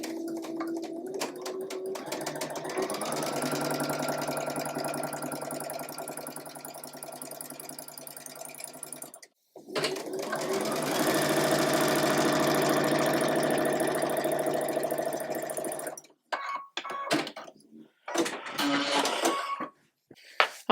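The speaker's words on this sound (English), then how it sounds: "Line up the centers and sew at 1/4 of an inch." Sewing machine stitching quarter-inch seams on a quilt block, two fast, whirring bursts of steady stitching separated by a brief pause, followed by short stop-start runs, close and moderately quiet.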